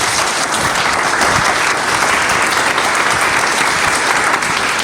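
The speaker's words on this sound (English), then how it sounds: "If you could just give him a round of applause." Sustained applause from a conference audience at a NEHA conference opening session, steady and dense clapping filling the room from start to finish without talk over it.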